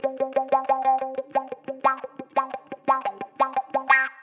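Palm-muted electric guitar run through a MuTron III envelope filter: a rapid, steady stream of short, choked, funky plucked notes with a quacky filtered tone, played close and loud without speech.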